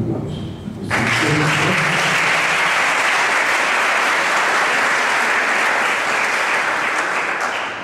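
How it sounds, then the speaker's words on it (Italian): An audience bursts into sustained, loud applause at a presentation of a music band's recording, the clapping starting abruptly after a moment of speech and continuing dense and steady to the end. "Un applauso."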